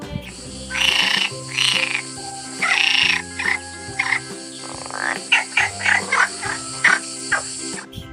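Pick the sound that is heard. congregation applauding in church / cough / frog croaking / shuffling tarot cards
frog croaking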